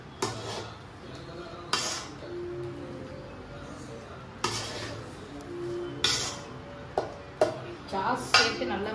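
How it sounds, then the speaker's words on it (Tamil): Egg fried rice with chilli sauce is stirred in a metal pan, a spatula knocking and scraping in uneven bursts with bright clinks, close by, while someone talks in the background. "சேர்த்து நல்லா மிக்ஸ் பண்ணி விட்டுக்கிறேன் நான்"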